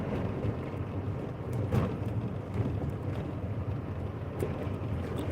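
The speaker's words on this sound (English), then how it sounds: "Another windy day out here in this motherfucker, man." Steady wind buffeting and rumbling against the microphone, continuous and fairly loud, with no voices.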